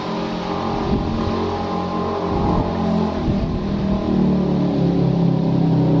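A moped passes by early in the morning, buzzing and rising then fading, over a low rumble of wind noise outdoors.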